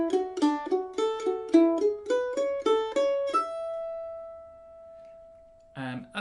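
Mandolin plays the opening two bars of Monroe's Hornpipe as a quick run of bright plucked notes ending on one ringing held tone, followed by a brief spoken voice.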